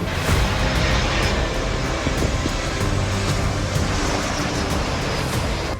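An aircraft flying a display at Farnborough Airshow, a loud sustained jet roar washing over an outdoor crowd, broad and steady with slight swells as it passes.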